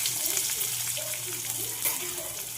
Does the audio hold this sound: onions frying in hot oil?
yes